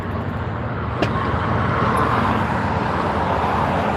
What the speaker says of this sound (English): It's pretty loud out here with all these cars.